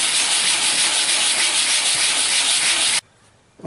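Steady, loud abrasive rubbing of a sanding block scraping back and forth across stone, continuing for a few seconds before abruptly stopping.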